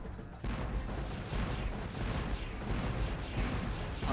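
Cannon fire in the video game Spyro 3: Year of the Dragon comes as a steady run of low booming shots over a busy game backdrop, fairly quiet overall, starting abruptly after a short pause.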